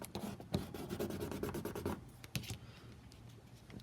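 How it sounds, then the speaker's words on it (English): Pen or pencil scratching and rubbing across the dry back of a paper collage piece, a close, busy run of scritchy strokes that thins out into lighter, sparser scratches toward the end. "you can even go on a dry area and draw on the"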